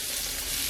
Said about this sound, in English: Okay, the butter's burning.